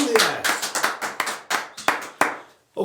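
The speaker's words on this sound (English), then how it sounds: "give yourselves a round of applause because you deserve it" Sharp, separate hand claps ring out in a quick uneven rhythm, close and fairly loud, with short gaps between bursts before stopping abruptly.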